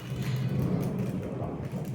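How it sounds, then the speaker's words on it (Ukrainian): Thunder rolls during a storm in Italy as a low, continuous rumble lasting a couple of seconds, fairly faint and without any voices. "Ого, як гримить"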